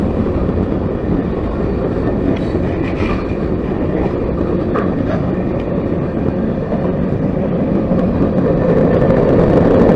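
A CSX freight train of gondolas loaded with scrap steel rolls past near Hoboken, Georgia, a loud, steady rumble and roar of wheels on rail with faint clicks, constant for the whole stretch.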